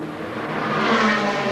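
Dodge Viper race car, number 107, rolling into its pit stand during the Spa 24 Hours race. A steady engine drone rises slightly and holds over a broad wash of circuit noise.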